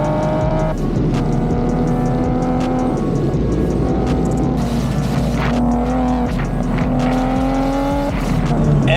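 A BMW 335i E90/E92 driven hard through corners, its engine loud and steady with revs rising and falling and brief tire squeal, close and continuous throughout.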